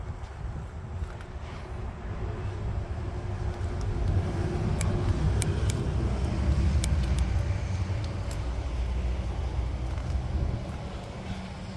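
A 1970 Chevrolet C10 truck with a 350 cubic inch Chevrolet engine idles steadily, a deep low rumble with some wind buffeting, holding a constant level throughout with no speech.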